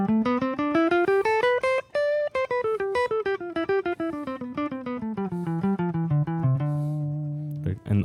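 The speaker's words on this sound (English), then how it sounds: "So that's the sound of Dorian" A D Dorian scale played melodically on a pitched instrument, running up and back down in clear successive notes with a steady rhythm, ending on a held low tone, alone with no talking.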